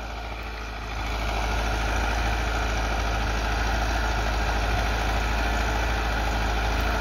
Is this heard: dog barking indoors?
no